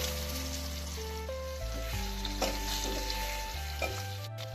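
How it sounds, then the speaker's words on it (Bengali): Potatoes fry in oil with a continuous hissing sizzle, heard under loud, steady background music with sustained tones. "এবার আমি আলুগুলো ভেজে নেব"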